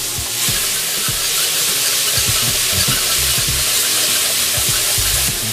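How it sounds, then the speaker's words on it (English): Spoonfuls of seasoning paste for lemongrass coconut curry sizzle loudly in a hot, smoky oiled pan, making a dense steady hiss with crackling pops throughout. "Because of the heat of the pan, the liquid evaporates quickly, which is exactly what I want."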